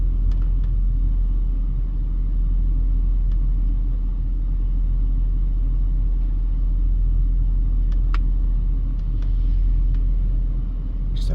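Vehicles roll past on a road near East Lake Mead Blvd and Nellis, a loud continuous low rumble of car engines and tires with occasional brief higher clatters, no talking.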